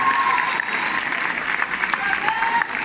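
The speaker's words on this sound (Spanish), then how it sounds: "Denles un fuerte aplauso a los jóvenes." An audience at a conference gives young participants strong applause, a steady, fairly loud burst of many hands clapping with a few voices mixed in, sustained throughout.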